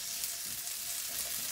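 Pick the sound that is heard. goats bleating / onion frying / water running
onion frying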